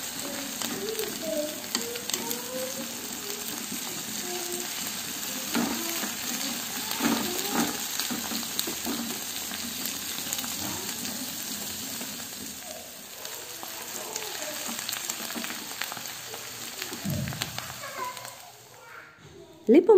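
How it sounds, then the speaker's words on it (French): Rinsed canned mushrooms stirred in a frying pan, a steady sizzle with scraping and clinks of the utensil running throughout, a voice speaking over it near the start, ending in a sharp knock. "Je rajoute une boîte de champignons en conserve que j'ai bien rincé à l'eau et je remue le tout."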